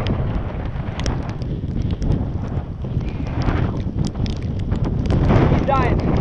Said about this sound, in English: That wind's strong.